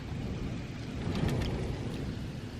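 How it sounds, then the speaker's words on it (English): Hail falling outdoors during a storm, a dense, steady hiss of small impacts with brief sharper patters near the middle, continuous and fairly loud with no voices. "Look at this hail."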